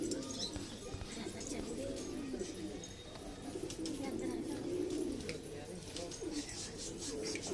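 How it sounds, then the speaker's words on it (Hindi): High flyer pigeons at a breeder's loft coo in a steady low murmur throughout, with soft chirps and fluttering layered over it and faint background noise. "खुला पूछ का कबूतर है ये।"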